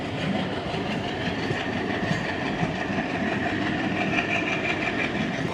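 Tungabhadra Express pulling out of Jadcherla station, a steady, loud rumble of rolling wagons with a faint clickety-clack and engine drone, continuous and without voices.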